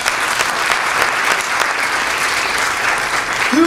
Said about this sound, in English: Can we give them a round of applause for putting this together?